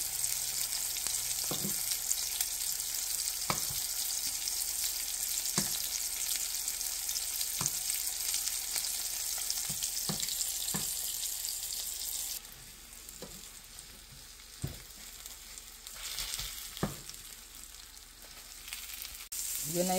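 Bacon sizzling in a frying pan, a continuous bright crackling hiss with scattered sharp pops and occasional utensil clicks, steady and close, easing slightly partway through.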